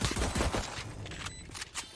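A quick volley of gunshots crackles in a competitive tactical video game match, several sharp bursts in close succession over about two seconds, with no talk.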